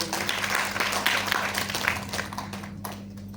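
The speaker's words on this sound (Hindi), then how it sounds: "चलिए सर, जबरदस्त ताली सर" Enthusiastic clapping from an audience at a gathering, loud at first and then thinning out and fading, with a low steady electrical hum underneath.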